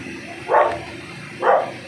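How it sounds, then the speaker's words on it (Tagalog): A dog gives two short, separate barks about a second apart, at moderate distance over a quiet background hum. "Aso, chismoso. Makarinig lang ng salita."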